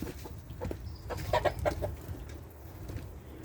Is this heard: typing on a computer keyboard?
no